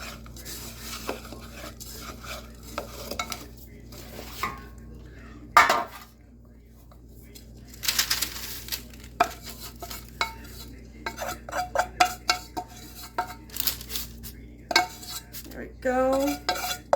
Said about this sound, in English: press it on the bottom of your pan